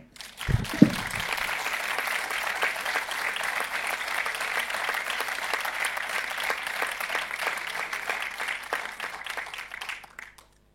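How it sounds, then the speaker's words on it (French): An audience at a festival event bursts into warm applause after a short thump, sustained even clapping for about nine seconds before it fades out. "qui mérite ce soir nos chaleureux applaudissements"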